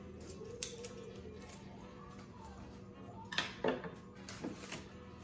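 Scissors cut down craft materials for a Christmas centerpiece, giving faint, close snips and small clicks with a few brief louder cuts in a quiet room.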